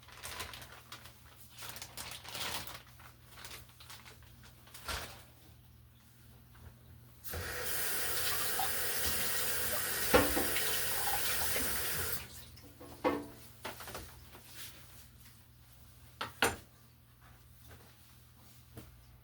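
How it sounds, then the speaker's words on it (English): Water runs from a kitchen tap for about five seconds as something is rinsed, a steady rushing hiss set between quieter stretches of light kitchen handling noise. "You give another rinse."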